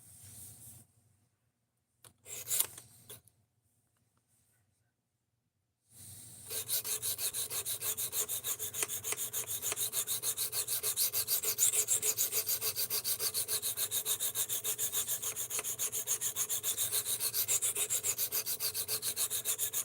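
Steel blade of Rex 121 being sharpened, a steady close rasping rub on an abrasive that runs continuously after a few brief scrapes and a quiet pause, no talking.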